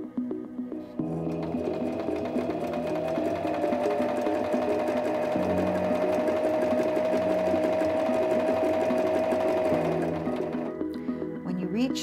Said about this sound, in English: step on the foot control to begin sewing